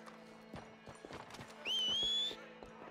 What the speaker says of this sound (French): je te présente mon cheval